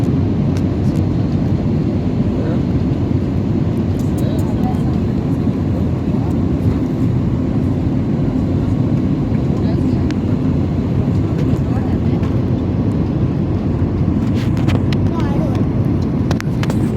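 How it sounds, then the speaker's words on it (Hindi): Passenger airplane descending toward landing at Lucknow, heard from the cabin as a steady, loud, broadband engine and air roar that continues without a break. "अब हम लखनऊ में उतर रहे हैं इससे फ्लाइट से, बिल्कुल नीचे आ रहे हैं।"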